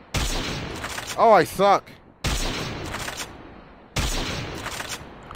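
Video game gunfire in quick bursts: a sharp volley near the start, then two more separate bursts of shots, with a person speaking briefly between them.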